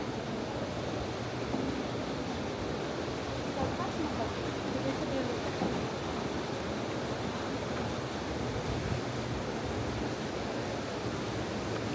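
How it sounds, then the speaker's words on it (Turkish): Water rushes through Horma Canyon in Kastamonu near a waterfall, giving a steady, even roar that holds without pause. It fills the space at a moderate level. "Yerdeki su sesi de çok güzel"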